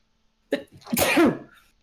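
A single close, sharp sneeze, a quick intake of breath followed by an explosive burst, then quiet.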